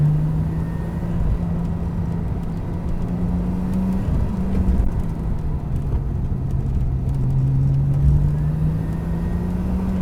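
Venturi Atlantique 300 Turbo driving on a cold road, a steady engine drone with shifting pitch as it pulls through gears and corners, close and continuous with no talk.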